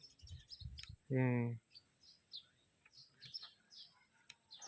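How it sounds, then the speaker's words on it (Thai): Tailorbirds chirp in quick, high, scattered bursts, fairly faint and at a distance, while a voice briefly speaks near the start, at a construction site where a wall has just been built. "พี่ ๆ ทางบ้านน่าจะได้ยินเสียงนกกระจิบนะครับ"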